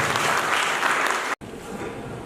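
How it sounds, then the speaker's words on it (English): Applause from an audience at a book launch event greets an introduced honoree, a loud dense burst of clapping cut by a brief dropout before continuing slightly softer. "Big round of applause."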